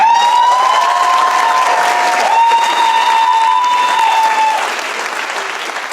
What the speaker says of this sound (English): Do we have another round of applause?